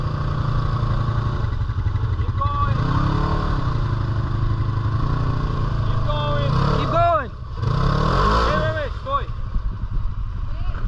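Honda ATV engine revving while mudding, a steady loud low drone that surges and rises in pitch around the middle, with people talking and shouting over it nearby.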